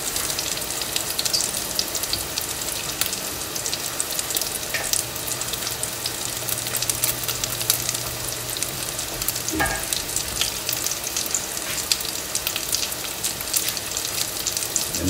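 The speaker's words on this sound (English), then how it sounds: "The vegetables and the roux get mixed together." Chopped vegetables stirred into a gumbo roux in a hot pot, a steady, dense sizzle with scraping stir sounds running throughout, close and continuous.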